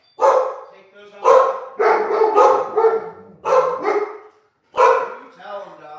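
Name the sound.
dogs barking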